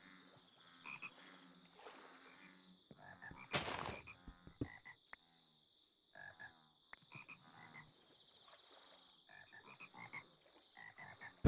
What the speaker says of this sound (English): Every time I see the quark Minecraft frog,